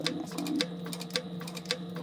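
A sewing machine back-stitches on a Sallie Tomato Phlox wristlet with TPU, giving close, evenly spaced mechanical ticks about twice a second over a low motor hum.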